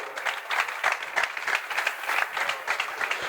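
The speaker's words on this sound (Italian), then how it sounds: "Applauso anche per Marco." Applause from an audience at a youth basketball academy team presentation, welcoming a player, moderately loud clapping from a small crowd with uneven, bursting rhythm throughout.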